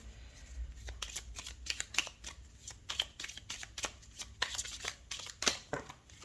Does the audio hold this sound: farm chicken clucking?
no